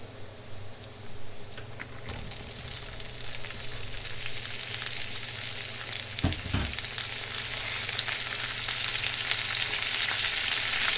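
Green beans sizzle and fry steadily in a hot pan with garlic and bacon, a constant loud crackling hiss with a brief stir or clink midway, no voices.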